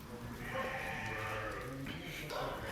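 A flock of sheep and big rams on a farm bleat in short wavering calls over low murmuring voices nearby.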